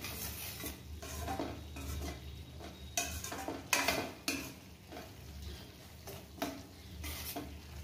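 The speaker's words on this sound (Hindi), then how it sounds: "इसे मीडियम फ्लेम पे हम इस तरह से चलाते हुए धीरे धीरे से भूनेंगे।" A macaroni mixture being stirred and roasted in ghee in a pan over a medium flame, with a steady soft sizzle under scraping and clinking strokes of a spoon against the pan, close up and without speech.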